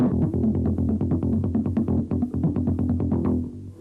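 Quick, evenly spaced muted bass guitar strokes repeat in a steady rhythm, short percussive plucks over a low droning tone.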